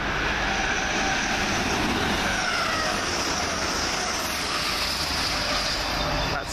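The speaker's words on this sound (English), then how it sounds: "That's 1H01 from London King's Cross to Hull." A train on the London King's Cross to Hull service passes through Peterborough station, a steady broadband rumble of wheels and engine holding loud and constant throughout, with no clear talk over it.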